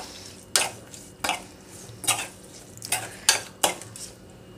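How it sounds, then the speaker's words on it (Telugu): A spoon mixes oil tempering into gongura pickle chutney, giving about seven soft, rhythmic scraping and clinking strokes against the vessel, close and alone. "తాలింపు మొత్తం కూడా కలుపుకోవాలండి"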